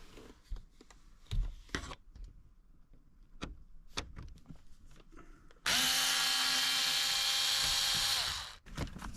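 A powered driver spins out a Phillips screw holding the radio in a BMW E46 325i dash: a steady, loud whirring buzz for about three seconds, preceded by scattered clicks and handling knocks.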